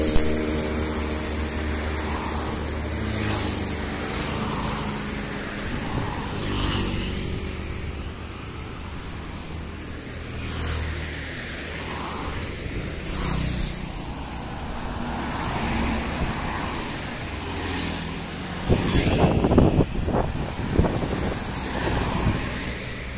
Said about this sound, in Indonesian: Lalu lintas cukup ramai